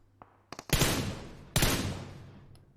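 Gunfire in PUBG Mobile: a few quick light shots, then two loud, sharp bursts that each ring out and fade slowly. There is no talking.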